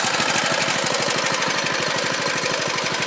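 A Coleman CT200U mini bike's small engine running close by, a loud, rapid, steady chugging putter with a rattly edge, sustained without pause and with no talking.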